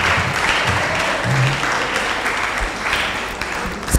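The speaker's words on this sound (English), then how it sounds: "Ladies and gentlemen, please clap for them as they go to their seats." Audience applause at a university science faculty conference, a brief dense burst of clapping from the crowd that stays steady for a few seconds.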